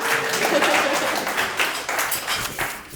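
Wedding guests applaud Josie and Nick during the toasts at a reception at The View in Cincinnati, a steady, fairly close burst of clapping that lasts about three seconds without a break.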